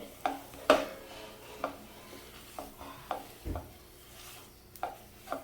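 A sticky dry fruit laddoo mixture is stirred in a pan, giving quiet, intermittent spatula scrapes and soft knocks at an uneven pace against a faint, low background.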